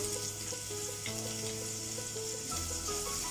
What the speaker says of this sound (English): Now we will fry the added mustard seed and zeera at the medium flame.